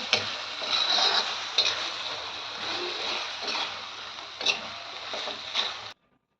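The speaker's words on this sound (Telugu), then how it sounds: "తాలింపు వేసి మళ్ళీ మీకు చూపిస్తాను." Hot oil sizzles and crackles steadily, with a few sharper pops and stirring sounds, before cutting off abruptly at the end.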